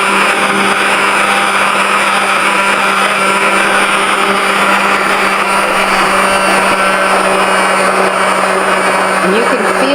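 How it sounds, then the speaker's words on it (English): An immersion blender whirs steadily as it blends homemade mayonnaise from egg and oil, a loud, continuous motor drone that holds throughout, close and with no one speaking. "you just slowly rise up, and then it blends it all up for you"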